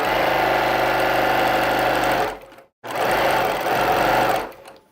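Sewing machine stitching jelly roll quilt strips for a log cabin block, running steadily and loudly for about two seconds, pausing briefly, then running again, close up with no talk.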